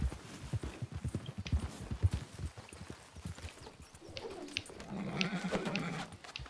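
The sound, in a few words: horse hooves clip-clopping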